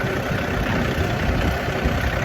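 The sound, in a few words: tractor engine idling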